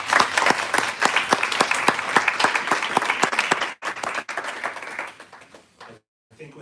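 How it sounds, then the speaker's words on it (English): An audience at a live dementia arts celebration breaks into a round of applause, dense and steady clapping for several seconds before thinning out and stopping. "We'll give a round of applause for this."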